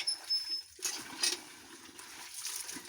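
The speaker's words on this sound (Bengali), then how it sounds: "প্রথমে জলটা ঢেলে দিই।" Water poured out during household chores, a brief uneven splashing and trickling stream in short bursts, fairly close and moderately quiet, with no talking.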